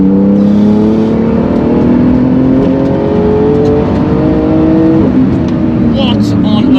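Manthey Porsche GT2 RS MR engine accelerating hard, with strong rising harmonic tones climbing through the gears over a loud, steady roar, close and continuous with an excited voice over it.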